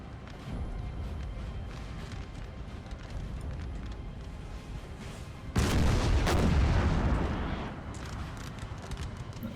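Musket volleys rolling across a Napoleon Total War battlefield, a steady crackle of distant massed fire under battle noise, swelling into a louder, fuller volley midway before easing back.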